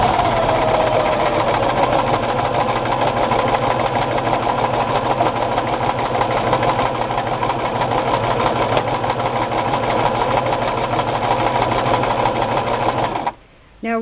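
A Brother LX3014 sewing machine runs steadily while stitching a braided rug made of bulky yarn, a continuous close, even whirring hum that stops abruptly near the end.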